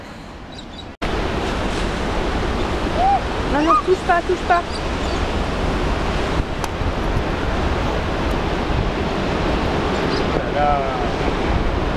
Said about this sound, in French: T'as vu les grosses vagues?